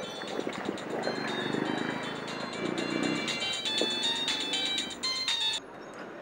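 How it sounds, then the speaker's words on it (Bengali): A mobile phone rings with an incoming call, a bright melodic ringtone repeating its tune close by for several seconds before cutting off abruptly. "ও আবার কে ফোন করলো?"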